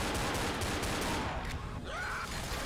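Dense, continuous gunfire at a tank in a multiplayer video game match, a loud rattling barrage that fills the whole stretch with no clear gaps.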